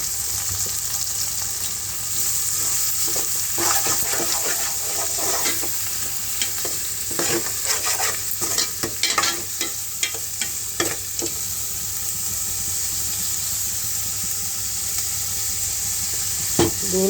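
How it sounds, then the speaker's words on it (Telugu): Onions fry in hot oil in a pan for egg curry, a steady close sizzle running throughout with repeated scraping clicks of a spoon stirring, busiest in the middle stretch, with no one talking. "ఎండేలు కూడా వేగిపోయి ఉల్లిపాయలు వేస్తున్నాను పులుసు."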